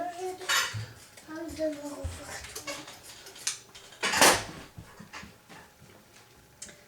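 Scissors snip through the elastic collar of a vest for a beginner larp costume, a series of irregular sharp cuts and rustles with clinks of handling, one loud burst near the middle.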